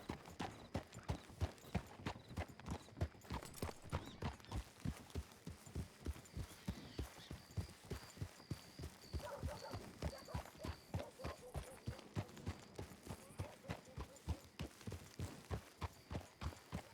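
Steady, rhythmic clip-clop of a horse's hooves walking along in the WildRP Western roleplay game, close and continuous, with a faint thin tone drifting in partway through.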